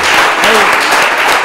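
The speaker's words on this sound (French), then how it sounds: "On peut l'applaudir." Audience applause at a Lubumbashi quiz contest, a dense, loud wash of clapping filling the whole moment, with faint voices mixed in.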